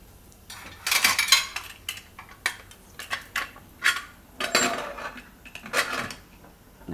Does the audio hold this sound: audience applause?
no